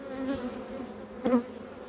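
Honeybees from an opened hive hum in a steady, close drone while frames of fresh wax foundation are added, with one brief knock partway through and no talking.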